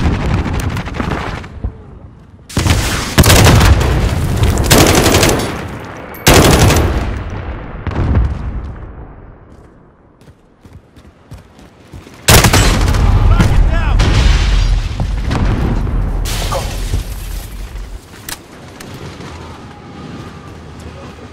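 A grenade thrown and exploding in Call of Duty: Modern Warfare, with loud deep booms and bursts of gunfire in heavy waves, a brief lull, then more blasts, with voices shouting over the battle.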